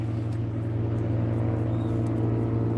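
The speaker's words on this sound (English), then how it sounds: "And shut up, cars." Traffic on a street outside a Tesco shop, with a steady low engine rumble and hum from passing cars that stays fairly loud and unbroken, with no speech over it.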